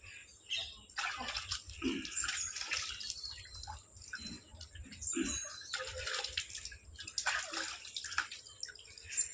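Water splashes and trickles as a blackened, fire-roasted country chicken is washed by hand, with irregular close sloshing bursts and drips throughout and no speech.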